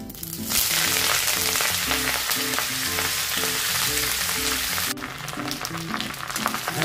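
Moringa leaves hit hot oil in a pan and sizzle loudly and continuously, a dense close crackling hiss with the scrape of stirring, while faint background music plays and no one speaks.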